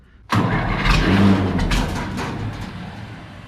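An old tractor engine cranks and fires abruptly, roaring loudly up close before settling into a rough, gradually fading run.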